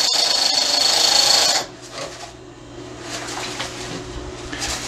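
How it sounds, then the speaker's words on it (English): A sewing machine winds a bobbin with a loud, high, steady whine that stops after about a second and a half, leaving quieter background room noise. "gotta always keep a bobbin winding"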